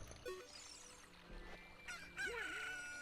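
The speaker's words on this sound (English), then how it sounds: "Cause guess what wakes up farmers in the morning?" A rooster crows in The Legend of Zelda: Ocarina of Time, a loud game sound effect rising into a long strained call, heard alone.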